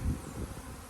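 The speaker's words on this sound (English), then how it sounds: "Got a freaking swarm going on while we're out here taking care of the bees." Honeybee swarm buzzing around beehives outdoors, a dense, steady droning hum of many bees with a louder swell at the start, no voices.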